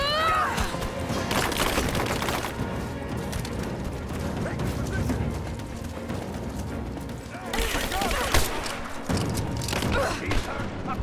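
Gunfire and thudding impacts in Rise of the Tomb Raider, a continuous dense barrage under game sounds with brief voice callouts mixed in.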